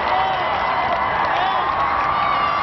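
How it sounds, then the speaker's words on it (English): Huge crowds lining the Long Walk at Windsor cheer during the royal wedding motorcade, a dense, steady roar of many voices and clapping at a distance. "huge crowds lining the Long Walk watched and cheered as the motorcade brought Meghan Markle"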